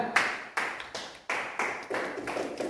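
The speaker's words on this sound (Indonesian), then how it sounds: "luar biasa sekali, tepuk tangan" Classroom applause: a small group of students claps in short, quiet, uneven bursts, with several separate rounds of hand claps close by.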